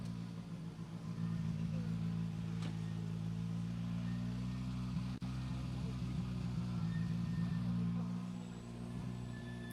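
A Skoda Fabia rally car engine runs at the start line of a rally stage in the Var, a steady mid-pitched engine drone lasting throughout while a commentator talks over it.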